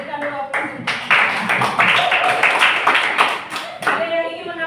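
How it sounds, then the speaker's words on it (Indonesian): Classroom applause from a group of students, a burst of fairly close, lively clapping lasting several seconds, with voices briefly audible at the start and end. "Oke, berikan dulu aplaus."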